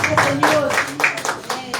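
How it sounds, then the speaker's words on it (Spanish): A church congregation claps in a steady, rhythmic beat, roughly four claps per second, close and moderately loud with voices mixed in. "denle un aplauso al Señor"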